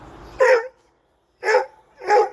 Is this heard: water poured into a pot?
no